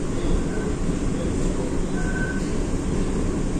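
A Supervia commuter train in Rio de Janeiro runs with a loud, continuous low rumble and rushing noise from inside the carriage, joined by faint squeals from the track.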